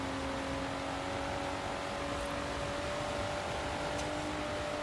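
Car engine held at a steady drone in the racing game Forza Horizon 4, a constant tonal hum over broad road and wind noise with no clear rise in pitch, continuous and fairly quiet throughout.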